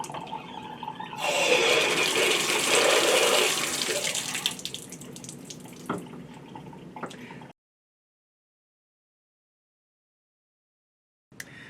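Water gushes through newly opened faucet valves in a plumbing rough-in. It surges loudly for a few seconds, tapers off and cuts out, leaving silence before a brief faint sound at the end.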